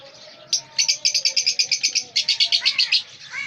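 Lovebirds in a breeding colony of lutino, personata and black-eyed birds chirp in a quick run of sharp, high repeated tweets, close and clear, with a couple of softer calls underneath.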